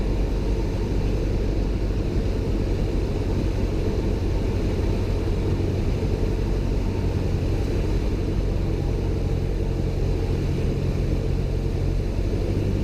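Steady loud drone of a light aircraft's engine heard from inside the cabin on final approach with flaps fully down, a continuous low rumble without change or voices.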